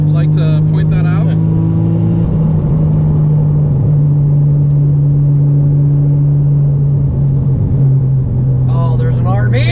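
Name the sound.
Nissan Skyline R34 GTR RB26 engine rev-matched downshifts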